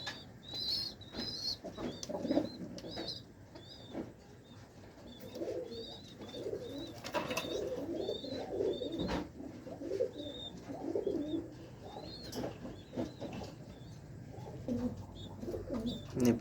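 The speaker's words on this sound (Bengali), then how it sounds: "বেস্ট কোয়ালিটির কবুতর, যেমন সাইজ, যেমন পাক, যেমন দম," Pigeons coo repeatedly and steadily at close range, with soft wing flaps and faint chirps in between, and no talking.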